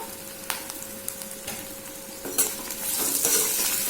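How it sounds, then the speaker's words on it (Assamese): Potatoes frying in a pan while being stirred, giving a steady close sizzle with occasional scrapes and clinks of a utensil against the pan, growing louder and hissier toward the end. "আলুখিনি অকণমান এইদৰে ভাজি থাকিব"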